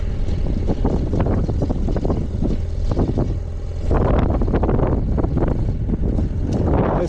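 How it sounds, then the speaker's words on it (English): Chilly crosswind roars over the microphone during a motorcycle ride in the Lesotho highlands between Maseru and Semonkong, a loud, continuous rushing rumble mixed with engine drone throughout. "chilled wind coming from the side"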